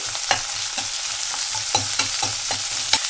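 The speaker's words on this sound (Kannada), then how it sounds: "ಇವಾಗ ಫ್ಲೇಮ್ ಜಾಸ್ತಿ ಮಾಡಿಕೊಂಡು ನಾನು ಮಿಕ್ಸ್ ಮಾಡ್ತಾ ಇದ್ದೀನಿ." Chopped onion and curry leaves are stirred in a hot pan over high flame, with a continuous sizzle broken by regular spatula scrapes and taps roughly twice a second, close and clear; no talking.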